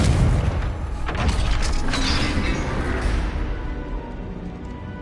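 A Confringo fire spell in Hogwarts Legacy bursts into a heavy, rumbling explosion that loudly opens the clip, then rolls on into a long, creaking, crumbling decay lasting several seconds.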